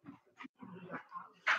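A beagle whimpers and whines in short, soft bursts close by, ending on a higher yip.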